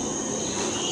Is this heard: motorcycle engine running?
no